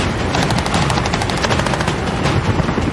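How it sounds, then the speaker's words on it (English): Gunfire heard from inside a vehicle with the door shut comes through as a continuous, muffled rattle of rapid shots, dense and steady for a few seconds with no voices. "That gunfire can be quite loud, can't it?"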